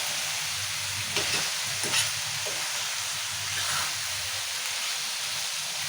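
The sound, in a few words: stirring tomatoes into frying fenugreek leaf curry in pan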